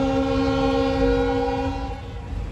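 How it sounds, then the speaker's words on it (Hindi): A passenger train pulls into a small two-platform railway station, sounding a long, steady horn blast over the low rumble of the approaching locomotive, which eases off toward the end. "देखो गाड़ी वहाँ से चल के आ रही है।"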